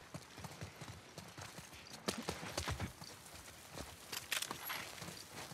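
Horse hooves clip-clop in steady walking rhythm on a hard surface in The Last of Us Part II, close and clear across the whole stretch, with faint voices in the background.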